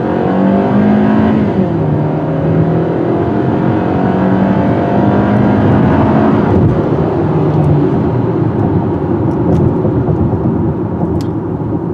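A 2018 Hyundai Sonata accelerating hard in sport mode: a steady, loud engine roar rising in pitch through the gears, with a brief dip at a shift change and wind noise building alone throughout.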